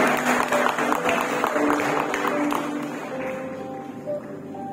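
Wedding guests clapping after a countdown unveiling at an Indonesian wedding ceremony, a moderate burst of crowd applause that thins and fades toward the end with some background murmur.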